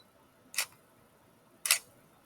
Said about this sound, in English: That was the shutter opening, staying open for a second, and closing.